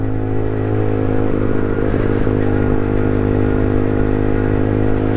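A loud Aprilia motorcycle engine runs close by at a steady, rumbling idle with a brief surge of mechanical clatter partway through.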